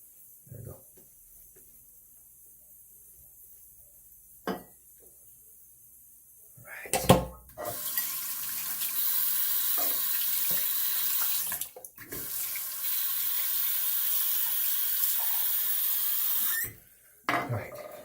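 A razor blade being rinsed under a running bathroom tap, with faint clicks and a brief knock before the water gushes in a steady loud stream, a short interruption midway, then the tap shutting off, alongside some talk.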